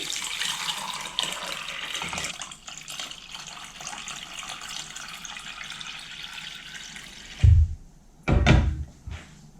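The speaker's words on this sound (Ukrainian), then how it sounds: "заливаємо холодною водою" Cold water runs steadily from a tap into a pot for several seconds, then two dull clunks sound as something heavy is set down.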